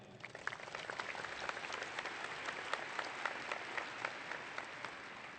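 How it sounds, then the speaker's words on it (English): A crowd at the 2023 NISD Clark High School graduation ceremony gives prolonged applause, a dense steady wash of clapping heard from some distance with a few sharper individual claps standing out. "Please give yourself a round of applause"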